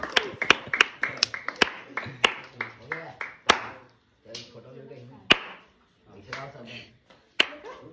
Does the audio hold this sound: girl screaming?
no